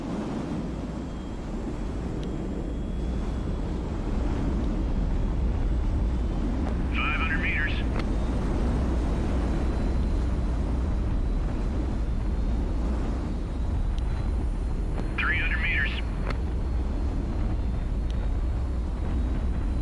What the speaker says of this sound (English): Fire reverse thrusters. Beginning final approach.